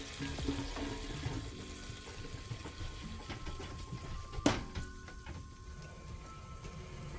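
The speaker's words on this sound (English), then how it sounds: "fill it with some cold water" Cold water running from a kitchen sink tap into a metal bowl, a soft, steady splashing hiss that lasts throughout, with a brief clink partway through.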